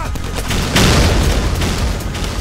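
A grenade launcher in the video game Payday The Heist fires, producing dense, loud booming explosions that blend into a continuous rumbling barrage of blasts and gunfire.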